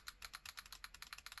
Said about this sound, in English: The buttons, after some limited play, they're micro switches, I think, but they're very clicky